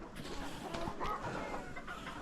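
Chickens in a farmyard coop after feeding, clucking softly and intermittently at close range, with scattered short calls over a steady low background and no talk.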